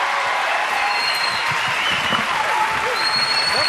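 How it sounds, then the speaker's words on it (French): A TV studio audience claps steadily for arriving guests, an even, continuous wash of applause with a faint voice or two underneath. "mesdames, messieurs, applaudissements, les voilà."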